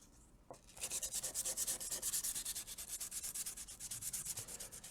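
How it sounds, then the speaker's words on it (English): Hand sanding metal with sandpaper: a steady, close, rhythmic back-and-forth scratching of about four strokes per second, starting after a faint pause and continuing alone without talk. "sandpaper works on metal too"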